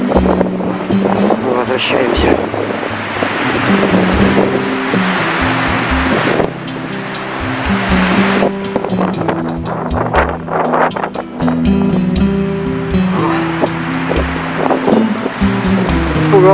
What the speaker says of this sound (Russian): Ветер. Это ветер идет.